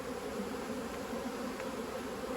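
Honeybees buzz steadily around a packed beehive on a rainy day, a continuous dense hum from many insects close by with no other sounds.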